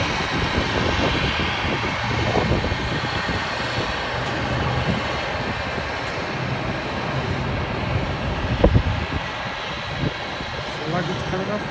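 A British Airways Airbus A319 jet arriving at Heathrow after a short flight from Belfast makes a steady broadband engine roar that stays loud throughout, with people talking over it outdoors.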